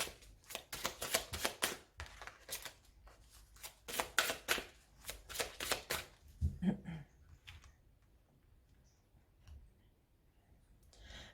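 A deck of oracle cards being cut and shuffled, a rapid series of crisp riffling flicks in quick bursts for about six seconds, then a brief soft rustle and near silence.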